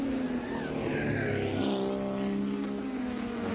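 Vintage race cars, among them a blue 'bathtub' Porsche, a Triumph GT6 and a Lotus Cortina, roar around Road America in a steady loud engine drone, with a pitch that sweeps downward as the cars pass.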